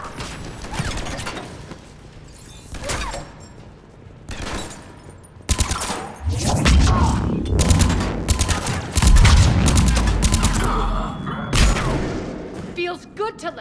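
Gunfire in the video game Mass Effect 3 Legendary Edition during the retaking of Omega, loud bursts of weapon fire and booms building into sustained shooting amid mechanical clatter, with a voice heard early.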